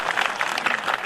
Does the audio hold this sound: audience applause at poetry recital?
yes